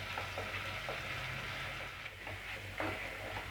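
Masala paste for Kerala-style fish curry is sautéed in a pan over low heat, giving a quiet, steady sizzle with occasional soft scrapes of a spoon stirring against the pan.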